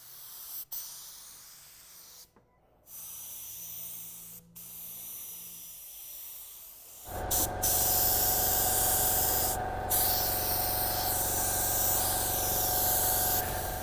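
A spray gun lays base coat paint on a car in an open garage. A steady, loud, broad hiss starts partway through and keeps going after a quieter stretch of background noise.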